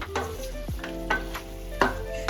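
Chicken stew in a pot gets stirred with a few distinct scraping strokes against the metal, over a soft background simmer, close and fairly quiet.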